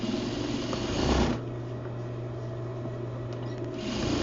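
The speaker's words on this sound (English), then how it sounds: "we're going to edge stitch it on" A sewing machine edge stitches a turned-under quarter-inch fold onto a trouser front pocket, running in a steady close hum with a louder burst at the start and again near the end.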